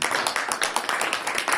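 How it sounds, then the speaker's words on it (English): Dense, close clapping from a community gathering, a brief burst of many hands applauding at once. "I think once more we have a big round of applause"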